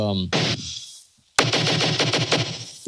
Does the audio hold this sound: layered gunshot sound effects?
yes